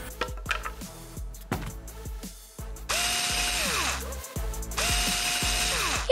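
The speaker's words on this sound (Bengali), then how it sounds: "ও হ্যাঁ, আমাদের শুধু কয়েকটা স্ক্রু আটকাতে হবে।" A power drill driving screws runs in two long whirring bursts, close and loud, after several sharp mechanical clicks and knocks.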